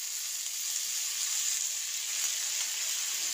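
Tea leaf flowers frying in hot oil with salt and turmeric, giving a steady, close, continuous sizzle with a bright hiss that holds evenly throughout, with no talk over it.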